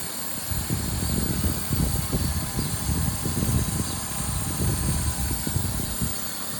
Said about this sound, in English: That intake is super loud.